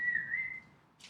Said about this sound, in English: They can certainly hear that whistle.